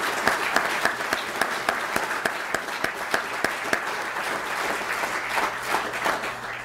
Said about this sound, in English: let's give them just a round of applause for the great work they did defending our people.